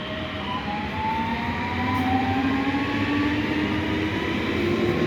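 Passenger train N6403 from Katowice to Rzeszów rolls steadily through Tarnów, a loud, continuous rumble with droning wheel and motor tones rising slightly as it passes close by, no voices.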